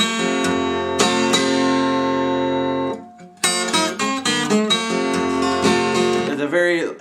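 An acoustic guitar plays a blues intro lick, crisp plucked notes and ringing chords in an uneven phrase, a brief pause, then a run of quick picked notes ending with a bend, loud and close.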